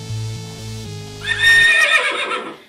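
A horse neigh triggered through a Makey Makey hooked up to plants rings out loud and close as one rising, wavering whinny, following a low tonal electronic sound.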